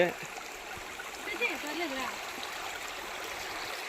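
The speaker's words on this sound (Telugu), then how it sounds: "ఇటు నుంచి ఒక నీళ్ళు వస్తుంది" A small stream of water flowing over rocks, a steady, even rush and gurgle heard continuously and fairly close, with a brief murmur of a voice partway through.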